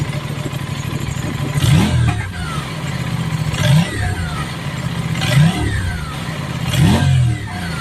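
An Aprilia RS 457 motorcycle engine idles, then revs repeatedly in short bursts, the exhaust roaring up and dropping back about every couple of seconds, loud and close.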